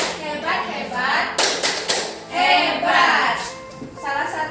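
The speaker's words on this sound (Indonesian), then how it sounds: "tepuk hebat untuk kelompok ibu Suparmi" A group claps a rhythmic 'tepuk hebat' chant at a village mothers' health group session, with several sharp bursts of hand claps mixed among voices talking and chanting.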